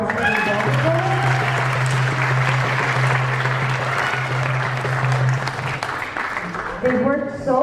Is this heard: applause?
yes